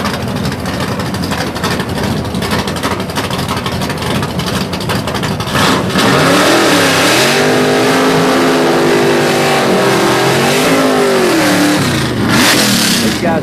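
Gasser drag race cars stage and launch in a semifinal at a Southeast Gassers event in London, Kentucky, engines rumbling and then roaring loudly as they rev and accelerate away.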